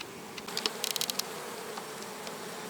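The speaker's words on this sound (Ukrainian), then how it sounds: "Літ молодого трутня продовжується" Young drone bees flying around beehives give a faint, steady insect hum with a few brief louder buzzes as individuals pass close, then fade back into the background drone.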